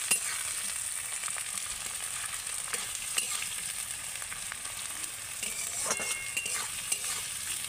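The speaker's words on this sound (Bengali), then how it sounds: "এই সব উপকরণগুলো আমি ভালো করে তেলের সাথে ভেজে নেব" Onion, garlic and chilies sizzle steadily in oil in a pan with occasional scraping stirs, a close, continuous crackle with no talking.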